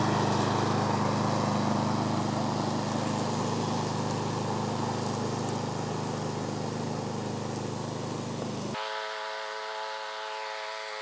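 A remote-controlled lawn mower from Amazon drones steadily as it cuts a strip up and back on a grassy slope, its engine loud and continuous before dropping away near the end.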